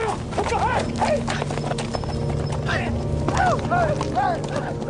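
Horses gallop with rapid clip-clop hoofbeats while repeated whinnies and neighs cut through, all over a dense, busy background of rumble and other sound.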